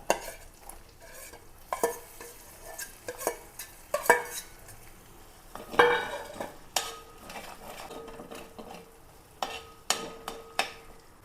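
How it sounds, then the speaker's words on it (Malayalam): Chopped ginger and garlic sizzle in hot oil while a utensil stirs and scrapes the pan in irregular bursts, with occasional sharp clinks, loud and close with no talking. "ഇനി ഇതിലേക്ക് ഇഞ്ചിയും വെളുത്തുള്ളിയും ചെറുതാക്കി അരിഞ്ഞതാണ് ഇട്ട് കൊടുക്കുക."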